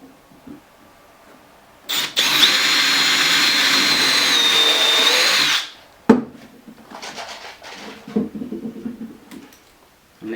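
A power drill drives screws into van bed panels fixed to frames during a camper van build, whirring loud and steady for several seconds before stopping, followed by lighter clattering and rubbing handling sounds.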